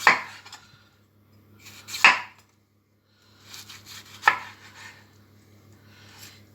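A knife chops bell pepper on a cutting board for a vegetable lasagna, landing three sharp, separated thuds with quieter slicing strokes between them, close and without talk.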